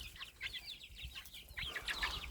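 Soft, high chirping and clucking from young chicks, repeated in quick little bursts, fairly quiet with no talking.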